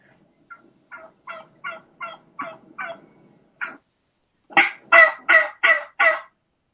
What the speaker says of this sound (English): there's one hen that's doing the high-pitched, fast-paced, that higher, that just regular, normal, plain yelp